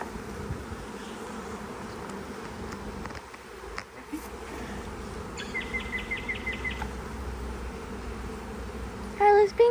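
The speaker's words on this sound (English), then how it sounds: "Lots of young bees there." Many young bees buzz steadily at a hive, a continuous insect drone through the whole stretch with a few louder passes near the end.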